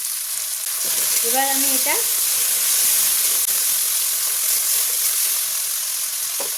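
Chopped potatoes fry in a pan with a loud, continuous hiss and crackle. A voice speaks briefly near the start over the sizzling.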